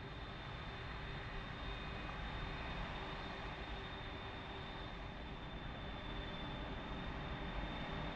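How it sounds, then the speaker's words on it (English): An airliner takes off in Microsoft Flight Simulator 2024 at a Warsaw-Radom airport, a faint, steady broadband engine roar with a thin high whine, continuous and distant. "Lufthansa heading off to Birmingham has just took off."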